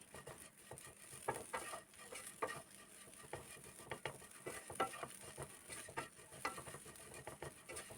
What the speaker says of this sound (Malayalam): ചെമ്മീൻ നല്ല വണ്ണം മൂത്ത് കിട്ടുന്നിടം വരെ ഫ്രൈ ചെയ്തെടുക്കണം